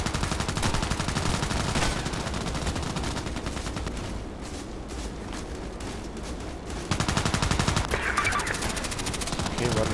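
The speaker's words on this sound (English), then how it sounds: "Shots are coming from there." Sustained automatic rifle fire in Contract Wars, an online shooter, likely an AKMS: loud, rapid, near-constant bursts that ease slightly midway and then intensify again, with faint game ambience underneath.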